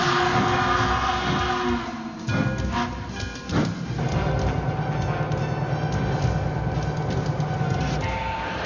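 An MTH Rail King model railroad train runs with a steady mechanical hum and rolling rumble. A few clunks break in partway through, and music or narration plays over it.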